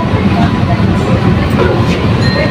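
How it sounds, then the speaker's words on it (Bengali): An AC local train rolls into platform 3 at Sealdah station with a continuous loud rumble of wheels and carriages, while voices carry over the station noise. "প্ল্যাটফর্মে 3-এ ঢুকিয়েছে ট্রেনটা, এসি লোকাল ট্রেন 3-এ ঢুকিয়েছে"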